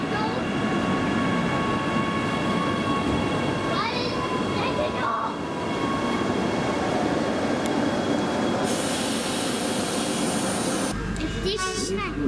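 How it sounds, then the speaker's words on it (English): Diesel tilt train rumbling past nearby, a steady loud engine and wheel roar with a high squeal near the end, while people talk over it. "The diesel tilt train."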